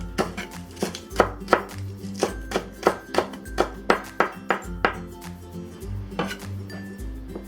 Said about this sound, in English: We have a green onion, cut it into kind of thick rounds.